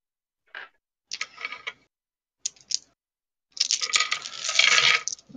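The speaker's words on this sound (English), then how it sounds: "Oh god, that sounds like a lot of dice." Several dice clatter and roll across a table during a tabletop role-playing game, in short separate rattles and then a longer, busier tumble of many dice, close and crisp, with no voices.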